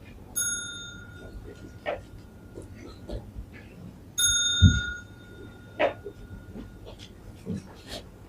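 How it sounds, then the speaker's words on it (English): A bell rung at a Buddhist ceremony with monks present, two clear ringing strikes about four seconds apart, each with a long sustained tone that fades slowly, over quiet room sounds and faint rustling. "bowing 3 times together to the ring of the bell"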